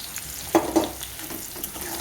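Dry spices frying in a pan for an egg curry, a steady close sizzle with a couple of brief stirring scrapes, no talking.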